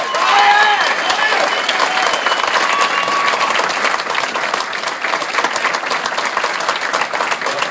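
Loud, dense clapping from a large wedding crowd after a best man speech continues without a break, with a few scattered cheers mixed in.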